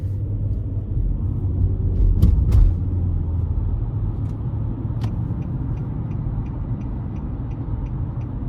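A 2015 Nissan Quest SL minivan's powertrain and road noise while driving in heavy holiday traffic: a steady, moderately loud low rumble throughout, with a couple of brief sharp clicks and a faint repeating tick near the end.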